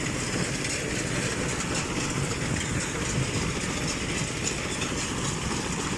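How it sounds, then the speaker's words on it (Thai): Engine mounted on a straw hay baler working in a harvested rice field, a loud, continuous running drone with a steady mechanical rumble and no talk. "อันนี้มีเครื่องยนต์อยู่ บนเครื่องอัดกลางแล้วนะครับ"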